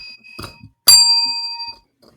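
A small hand bell struck once, giving a bright ringing tone that sustains for about a second before fading. It is preceded by faint rustling and stands alone without talk.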